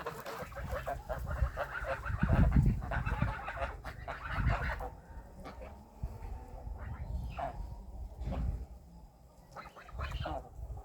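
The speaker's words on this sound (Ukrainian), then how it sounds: "Це гуси" Geese graze in a farmyard and give scattered, moderately loud honks while a woman calls to them over and over.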